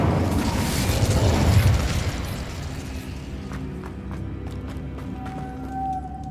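A fiery Incendio spell blast in Hogwarts Legacy gameplay, a loud roaring burst at the start that fades into quieter game ambience with a high tonal chime near the end.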